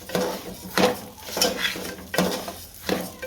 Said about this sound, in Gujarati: હવે આ ફાડા નાખી દઈએ. અને ભેળવી દઈએ ફાડાને હારા ઘીમાં.